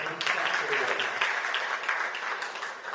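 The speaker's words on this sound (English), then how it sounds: "So we want to give them a round of applause." An audience gives a round of applause for the World Bank, a steady patter of clapping from a crowd held for several seconds at moderate volume.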